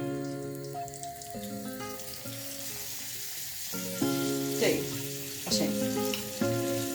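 Asafoetida and leaves dropped into hot oil for a Goan moong tempering, a sizzle with crackles and pops that bursts louder a few times, while a person talks over it.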